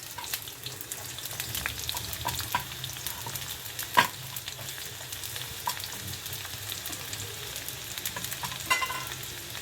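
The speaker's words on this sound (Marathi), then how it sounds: "आता आपल्याला त्याच्यात कांदा घालून घ्यायचा आहे." Chopped whole onion dropped into two spoons of hot oil in a wok, crackling and sizzling steadily for several seconds with a sharp pop near the middle, close and moderately loud, no talk.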